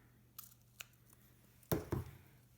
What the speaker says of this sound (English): And then you can just cut that loop on a diagonal down the center.